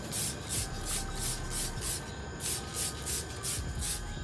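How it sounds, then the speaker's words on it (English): Quick rhythmic hissing spurts of McGuire wheel cleaner sprayed by hand onto truck wheels, about ten evenly spaced bursts close up, with a short pause midway. "I just spray it on there"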